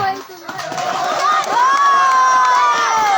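A crowd at a Maha Shivratri night jagran festival at a Shiva-Parvati temple cheers and shouts after a dance performance: a loud, sustained roar of voices with whoops, a few claps and children's calls mixed in.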